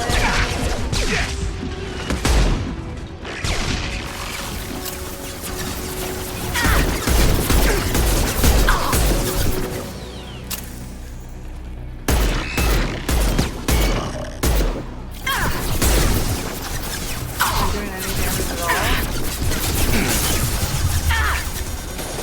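Rapid gunfire and impacts come in dense, repeated bursts during a firefight in Mass Effect 2, loud and close with brief lulls between volleys.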